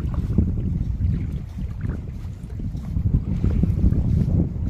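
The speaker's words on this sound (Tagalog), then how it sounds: "Ang sarap pakinggan ng tunog ng dagat." Sea waves wash and rumble along a shore near a playground, with blustery wind buffeting the microphone in a continuous, fairly loud low roar and no talking.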